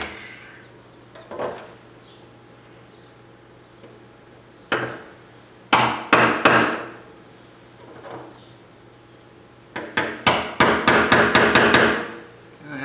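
A chisel is hammered against the threads of a rear fuel tank on a 1994 Ford F150, sounding as sharp metallic strikes, first a few spaced single blows, then a rapid close run of repeated hits.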